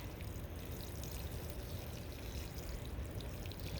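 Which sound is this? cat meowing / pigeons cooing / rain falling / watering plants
watering plants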